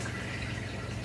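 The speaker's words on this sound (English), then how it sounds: "You can hear that oil right now." Pizza rolls frying seal side down in hot oil in a pan, giving a steady close sizzle with a continuous broadband hiss throughout, no voices.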